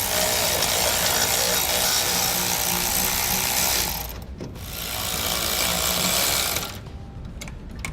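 Nylon lock nuts are run down onto U-bolts while mounting air helper springs on a 2009 Ford F-150, producing a loud, steady mechanical whir that drops out briefly twice, like a power tool driving a socket.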